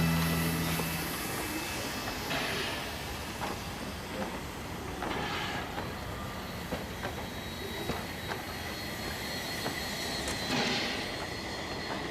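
A train rolls along its tracks through South Australia's Flinders Ranges with a steady rumble, faint periodic clicks and occasional squealing wheels, heard from inside.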